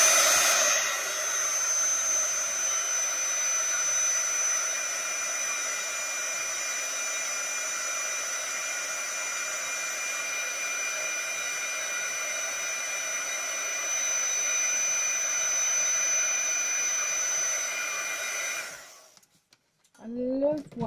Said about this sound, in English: Heat gun, just for a second